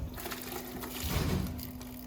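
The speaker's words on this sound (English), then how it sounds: "And then we rinse them." Tinted eyeglass lenses rinsed in water after a blue dip, giving a steady soft splashing and pouring wash that swells slightly midway, with a faint hum underneath.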